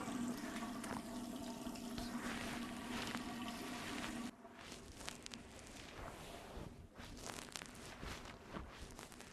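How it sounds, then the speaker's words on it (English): Running water pours and splashes over a freshly straight-razor-shaved head, a loud, steady close-up rush that drops slightly in level partway through and carries on with uneven splashing. "I'm gonna rinse my head off a little bit and see how I did so far"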